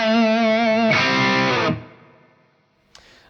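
An electric guitar runs through an external overdrive pedal in an HX Effects loop, sounding a held, distorted note and then a brighter strummed chord that rings out and decays, followed by a short pick noise.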